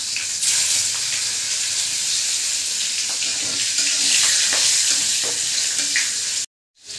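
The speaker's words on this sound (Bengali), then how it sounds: "আমি ওই তেলে দিয়ে দেবো তেজপাতা, আর দিয়ে দেবো কালো জিরে, এলাচ, লং, গোলমরিচ আর দারচিনি।" Whole spices (bay leaf, nigella seeds, cardamom, cloves, black pepper and cinnamon) fry in hot oil for a bhetki fish curry, a loud continuous sizzle and hiss that cuts off abruptly near the end.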